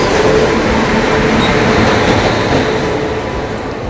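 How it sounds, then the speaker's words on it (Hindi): Humsafar Express passenger train accelerating fast alongside another express, a steady loud rushing rumble of wheels and carriage noise throughout, with no talk. "हमारी ट्रेन ने एक्सेलरेट करना बहुत तेज़ी से शुरू कर दिया"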